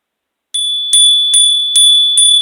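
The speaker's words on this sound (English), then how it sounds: "Let me hit the bell." A small bell struck five times at an even pace, each strike a bright, ringing tone that sustains into the next, loud and close with no talk over it.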